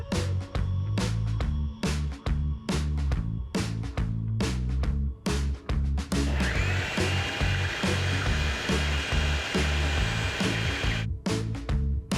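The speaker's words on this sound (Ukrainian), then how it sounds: "Бери пилосос, включай і погнали." A vacuum cleaner used during electrical work on the second floor of a house under construction, a continuous loud motor whine with a sustained high tone through the middle, broken by rhythmic pulsing tool-like knocks.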